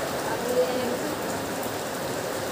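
Steady rain falling with a constant hiss and patter, continuous and fairly close throughout, no other sounds standing out.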